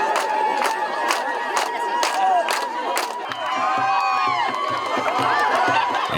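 A crowd cheers loudly at a ceremonial visit in Eritrea, shouts and ululating whoops rising together, then rhythmic low drumming and singing-like voices continue beneath the cheer.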